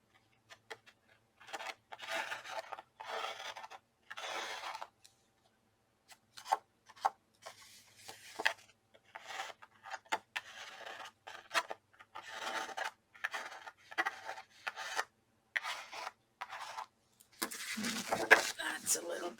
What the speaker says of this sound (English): I don't like these little tabs that are left over from die cutting. So I'm just going to trim those off